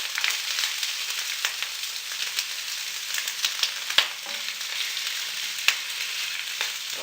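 Rabbit legs fry in a pan with a splash of water, giving a continuous close sizzle and crackle with a few sharper pops, no talking.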